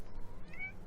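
A house cat gives a single close, clear meow, short and alone with no talk.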